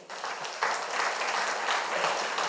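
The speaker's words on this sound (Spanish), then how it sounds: "Le damos un aplauso al Señor." A church congregation applauds during a Spanish-language sermon, giving a steady wash of clapping that swells after a brief quieter start and holds evenly with no talk over it.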